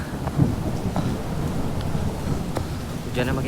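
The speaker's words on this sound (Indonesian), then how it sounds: "Hujannya makin gede" Heavy rain pours steadily at a waterfall on Gunung Salak, a mountain in Bogor, West Java, as darkness falls, a dense continuous wash of drops with a few sharper spatters, close and moderately loud.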